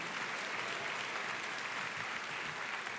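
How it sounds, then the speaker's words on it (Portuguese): A church congregation at a worship conference applauds the Lord with dense, steady, sustained clapping from a large crowd, heard faintly and from some distance, with no pauses. "aplauda ao Senhor"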